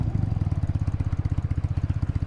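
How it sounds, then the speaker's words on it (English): A 1986 BMW R80 Airhead boxer-twin bobber motorcycle runs nearby with a rapid, even lumpy pulse, its low throbbing exhaust beats clear and steady with no talk over it. "But that engine sounds great. Listen to that."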